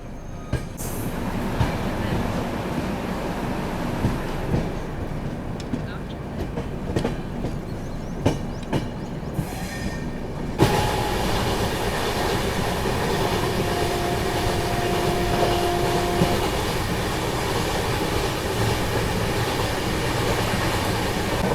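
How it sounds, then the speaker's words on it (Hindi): The Bundelkhand Express pulls out of Bhadohi railway station after a chain-pulling stop: a loud, continuous rumble of rolling wagons with clacking wheels that swells and grows steadier midway through. "चलो चेन पुलिंग के बाद अभी वापस से ट्रेन अपनी निकल रही है भदोही रेलवे स्टेशन से।"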